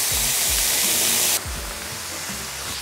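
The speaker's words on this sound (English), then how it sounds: "Some sizzle action on that microphone." Pancetta fries in a hot pan for spaghetti carbonara, a loud, close, steady hiss of sizzling fat that drops a little in level partway through, with low thuds from the stovetop beneath it.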